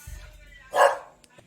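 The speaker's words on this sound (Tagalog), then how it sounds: "Ang ingay ng mga aso kasi kumukulog tsaka kumikidlat." A single sharp dog bark rings out in a quiet space during a thunderstorm, with a short low voice just before it and faint sounds after.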